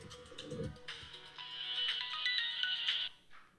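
A telephone ringtone plays a bright, sustained electronic melody for about three seconds during a Buddhist lecture, clear and fairly close, with faint low sounds at the start and no talk.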